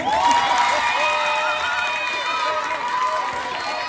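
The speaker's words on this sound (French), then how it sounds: "D'ailleurs, il applaudit" A school audience at a student presentation applauds and cheers, a dense crowd of clapping hands mixed with children's excited shouts and voices, sustained and fairly close throughout.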